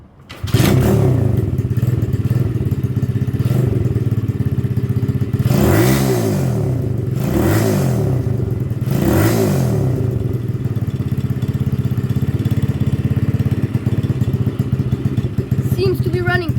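Dirt bike engine running on E85 fuel after a jet change, idling with a steady close-up rumble and three sharp throttle revs that climb and fall back, loud and alone outdoors.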